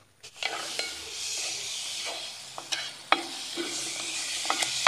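Grated coconut with cardamom and sugar is stirred in a pan over a low flame, a soft steady sizzle broken by repeated scraping strokes of the spoon, quiet and close, with no talk.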